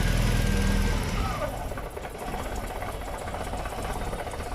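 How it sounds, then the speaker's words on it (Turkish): A car engine with an exhaust leak idles close by with a rough, uneven chugging, its rhythm sputtering, during ignition timing adjustment, with brief voices at the start. "Egzoz kaçırıyor ha. Çap çap yapıyor bak araba."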